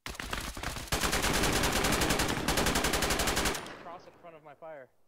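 Rapid bursts of close, loud AR rifle gunfire fill the opening seconds with a dense string of sharp shots, then break off as a voice speaks briefly.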